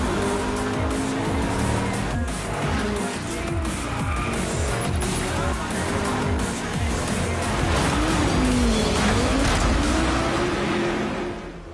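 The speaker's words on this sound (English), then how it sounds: "start your engines because it's time to go for a drive" Racing cars in the video game Driveclub roar steadily with loud engine revving, rising and falling gear shifts and tyre squeal, a continuous close mix of motor sound with no talk.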